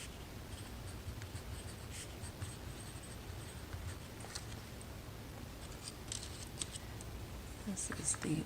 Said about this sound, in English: I guess I should be writing the names next to them.